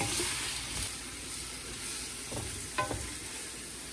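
Squid stir-frying in a pan for seafood pancit gives a steady soft sizzle and hiss, with a few louder scraping stirs of the utensil against the pan near the end.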